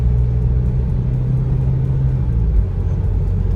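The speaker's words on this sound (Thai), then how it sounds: "ฟังเสียงเครื่อง" Steady low rumble of a 2022 Isuzu MU-X engine running, heard from inside the vehicle, with a slight rise in revs near the end.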